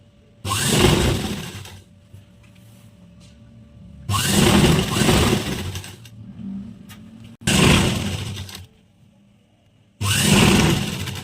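A sewing machine stitching a waistband belt onto plazo trouser fabric, running in four separate bursts of rapid whirring stitches with short quiet pauses between them.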